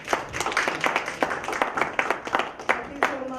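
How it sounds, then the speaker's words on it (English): A conference audience gives a brief burst of clapping, scattered individual claps close together at a moderate level rather than a full roar, with a voice speaking over it. "So big round of applause for her,"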